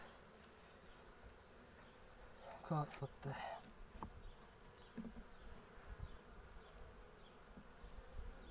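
Bees buzz softly and steadily during a spring beehive inspection, a faint continuous drone, with a few brief louder passes and clicks close by.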